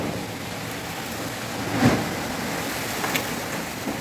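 Heavy rain pours down steadily during a thunderstorm, with a single rumbling thunderclap near the middle and fainter crackles afterward, no voices.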